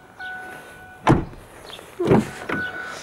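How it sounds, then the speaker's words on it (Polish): Two solid thunks of a 2016 SsangYong Korando 2.2 door shutting, close by, with a soft mechanical hum and a lighter click between them. "odgłos zamknięcia drzwi, żebyście już co nieco usłyszeli i zobaczyli"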